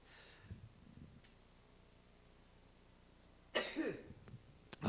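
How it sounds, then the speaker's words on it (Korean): A sudden burst of coughing and throat clearing, close and fairly loud, after several seconds of near quiet with a faint earlier rumble. "요즘 자꾸 이렇게 헛기침도 나고"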